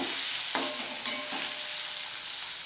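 Paneer pieces fry in a hot pan with a little turmeric, giving a steady, close, broadband sizzle with a few soft stirring knocks and no voices.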